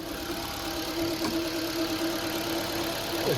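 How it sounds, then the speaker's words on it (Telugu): A 2016 Ford Figo petrol car idles with the bonnet open, a steady mid-pitched engine hum with a faint constant whine, close and even throughout. "ఇంజన్ స్టార్టింగ్లో ఉంది."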